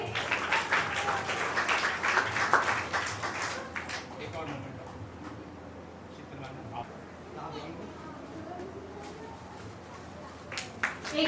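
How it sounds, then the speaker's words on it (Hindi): An audience at an eighth-anniversary event for a service organization breaks into dense, loud applause that fades after a few seconds, leaving faint room noise and a voice over the hall's sound system. "हमारे एक जोरदार ताली फिर से।"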